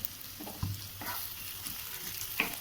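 Chopped onions for dosa sizzle quietly in a pan while being stirred and roasted, with a low steady hiss and occasional scrapes and clicks of a spatula.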